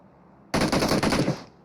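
Rapid automatic gunfire from a shooter game playing on an iPad Air 4, one loud burst lasting about a second that starts abruptly after a quiet lead-in and trails off at the end.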